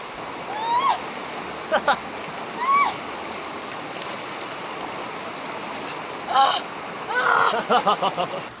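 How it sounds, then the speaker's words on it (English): Rushing snowmelt water flows in a steady, loud wash from a nearby mountain stream in the New Mexico wilderness, with short high-pitched calls breaking in now and then. "All this water's coming off the mountains. It's all the snowmelt from the mountains."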